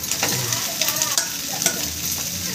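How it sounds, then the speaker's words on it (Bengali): Chow mein with egg is stir-fried in a pan, with steady sizzling and repeated scraping, stirring strokes close up. "ডিমটা দিয়ে দিয়ে এবার চাউমিনটা দিয়ে দিচ্ছি"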